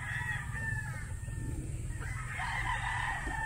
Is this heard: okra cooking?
no